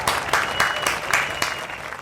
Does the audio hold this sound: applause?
yes